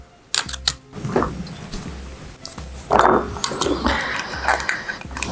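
A battery fitted into a Nintendo Switch Joy-Con with a metal shell: sharp, close plastic clicks and taps, a few scrapes and handling rustles, with quiet gaps between them.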